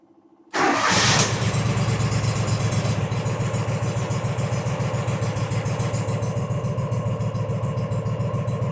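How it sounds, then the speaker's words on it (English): A John Deere 345 lawn tractor's Kawasaki engine cranks briefly after a quiet moment, catches, and settles into a smooth, steady close idle with an even pulsing rhythm and no talking. "Everybody likes to hear a good running engine"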